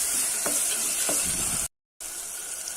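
Tomatoes sauté in a pressure cooker pot, a constant loud sizzle with a few stirring scrapes, briefly cut to silence before the frying resumes.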